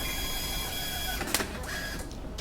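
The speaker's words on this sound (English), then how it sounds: "and the printer still works." A Custom Engineering TG2460 kiosk ticket printer whirs as it feeds and prints a ticket, a faint mechanical buzz with a brief sharp click near the middle and a short motor whine after.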